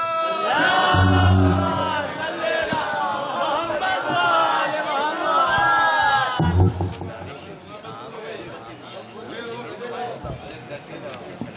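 At a religious mehfil celebrating Maulood-e-Kaba, a crowd loudly chants salawat in unison, strong voices rising together in a sustained call and then a second chant, with murmuring people around.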